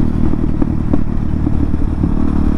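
A motorcycle on the move, its engine a loud, steady, close droning rumble with faint clattering and thumping from the machine running throughout, and no talking.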